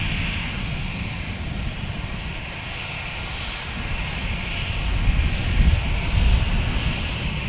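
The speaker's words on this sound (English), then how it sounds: "So this is an Airbus" An Airbus airliner flying past near San Diego gives a loud, continuous engine roar. A deep rumble swells stronger near the end, with no voices.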